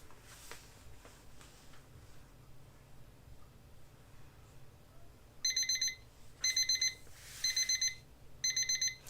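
A kitchen-style timer alarm goes off in four loud, repeated bursts of shrill electronic beeping over a quiet room background, following a few faint earlier taps.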